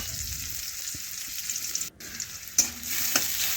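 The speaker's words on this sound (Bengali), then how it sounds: "পেঁয়াজও একটু ভালোভাবে নাড়াচাড়া করে নিচ্ছি, একটু লাল লাল ভেজে নেব।" Chopped onion sizzles and fries in hot oil in a pan, a steady close crackle with a brief scrape or two from stirring.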